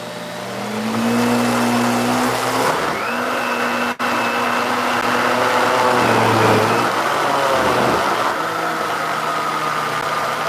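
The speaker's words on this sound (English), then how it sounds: "let's go ahead and blend it" A high-speed blender fitted with Japanese blades whirs loudly and continuously up close, its motor pitch rising and dipping as the contents churn.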